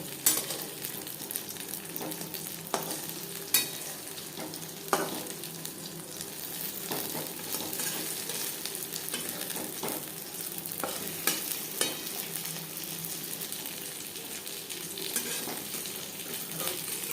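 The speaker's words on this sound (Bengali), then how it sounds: "শ্যালো ফ্রাই করলাম আপনারা চাইলে ডিপ ফ্রাইও করতে পারেন" Masala fish shallow-fries in a pan with a steady, close sizzle, broken by repeated scraping and clinks as the pieces are stirred and turned.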